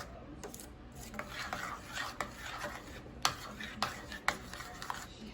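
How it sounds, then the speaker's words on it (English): A spoon scrapes and stirs spices into Jamaican cornmeal porridge in a pot, making soft rasping strokes punctuated by sharper metallic taps against the pot rim, fairly close and quiet. "once I finish stirring these spices all in"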